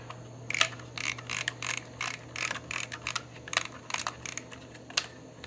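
An AgfaPhoto 35mm reusable film camera works its shutter and film advance, giving a run of small, sharp mechanical clicks and ratcheting ticks close to the microphone over a faint steady hum, with no talking.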